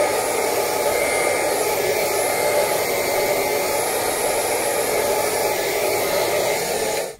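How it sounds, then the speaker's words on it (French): Hair dryer running loud and close while drying hair, a steady unbroken blowing roar that holds for about seven seconds and then cuts off, with no talking. "je viens sécher tout ça ou ses cheveux"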